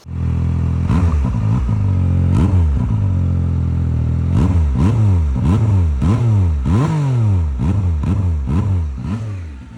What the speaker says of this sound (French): c'est le son qui sort du silencieux, parce qu'on a l'impression de rouler avec un 4 cylindres tellement il chante